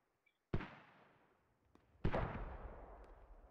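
Two mortar shells burst in a military shooter game, each one a sharp, loud crack followed by a long, fading rumble, with a quiet gap between the impacts.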